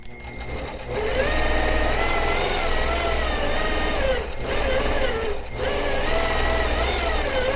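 Sewing machine running at steady speed while stitching swirl quilting patterns, a loud continuous motorized whir with brief pauses near the start and mid-way.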